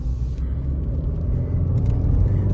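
A Subaru Outback station wagon engine hums on the move, a steady low rumble with road noise building slightly louder toward the end, heard from inside the car with no talk.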